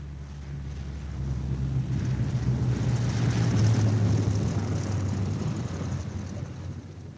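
A B-17 Flying Fortress bomber returning from a mission comes in to land with its left inboard engine dead, heard as a loud, steady propeller-engine drone with a wind-blown rumble that swells and then eases off.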